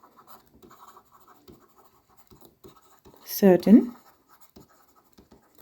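A pen scratches quietly as notes are written down, with faint, irregular ticking strokes running throughout and a brief spoken word partway through.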